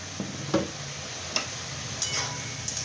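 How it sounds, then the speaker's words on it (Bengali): Spices being stirred in a pan while cooking bottle gourd shrimp curry: a few sparse scraping and tapping clicks of a spoon against the pan, quiet and close, over a faint sizzle. "দিয়ে আমি এদের নাড়ছি।"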